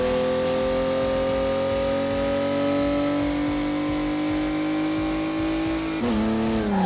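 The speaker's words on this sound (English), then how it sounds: "gotta remember to use that e-brake to get those drifts" Race car in Ridge Racer drifting under the e-brake, a steady high engine whine holding pitch before a sudden shift near the end with tire squeal, loud and close with no talk.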